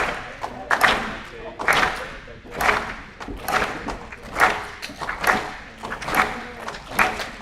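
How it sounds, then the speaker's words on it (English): A crowd stomps its feet to a drum beat at a mental health event, giving regular thudding bursts in a steady rhythm across the room, with a voice occasionally heard. "Now stomp your feet to the beat."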